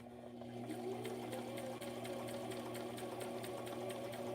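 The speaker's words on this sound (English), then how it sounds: "I'm going to try to sew this." A sewing machine stitching through a cereal-box journal cover, its motor humming in a fast, steady mechanical rhythm, close and unbroken for several seconds.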